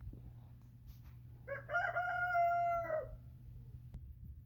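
A Buff Orpington rooster crows once, a single clear, drawn-out call at moderate distance over a low steady background hum.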